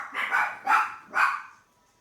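A puppy gives three quick, close barks in an even rhythm, with faint quiet afterward.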